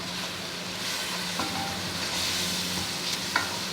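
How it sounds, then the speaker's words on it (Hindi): Masala of turmeric, salt and garam masala frying in a pan for a beef tikka biryani, a close, continuous sizzle with scraping stirring and a few light clinks, no voices. "थोड़ा सा भून लें ताकि इनका जो कच्चापन है वो ख़त्म हो जाए"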